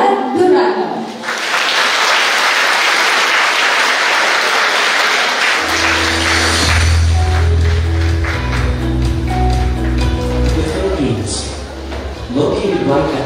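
A large audience at a 2024 IT-BPM scholarship program ceremony breaks into dense, loud applause for about five seconds, then fades as music with a steady low beat takes over.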